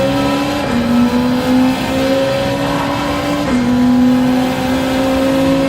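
A race car engine in the Gran Turismo racing game on the Sardegna circuit drones loud and steady, holding a high pitch with brief shifts in revs.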